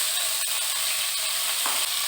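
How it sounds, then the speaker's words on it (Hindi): Onion and green chili paste fries in oil with cumin and curry leaves, giving a loud, continuous close sizzle with faint stirring clicks and no talking. "अभी इसको मीडियम फ्लेम पे लगभग 2 मिनट तक फ्राई कर लेना है।"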